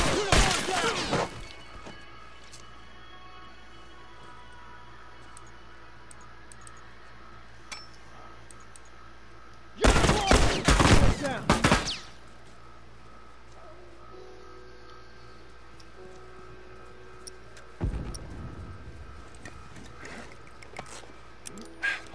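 Bursts of gunfire in a multiplayer match of The Last of Us, one long loud cluster in the middle and a shorter burst later, with sharp clinks and brief crashes over a steady game background.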